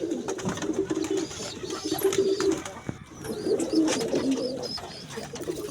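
A young Patta pigeon in a home loft coos in low, repeated throaty phrases, close and clear, with the soft rolling calls pausing briefly midway before resuming, faint chirps and rustling in the background.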